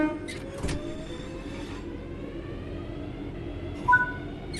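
A passenger train coasts with throttle at zero on level track in the Train Sim World 4 simulator, giving a steady low rumble of wheels and running gear with faint tonal whines and a brief squeal near the end.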